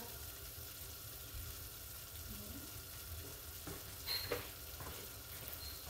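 Pecans with sugar and cinnamon sizzle quietly in a pan, a faint, steady crackle with a few soft scrapes near the end.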